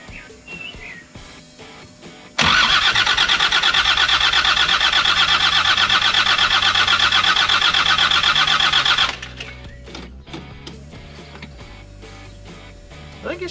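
A Land Rover TD5 diesel in a 110 with a freshly refitted cylinder head cranks and fires, then runs loudly and roughly for several seconds before dropping to a quieter idle.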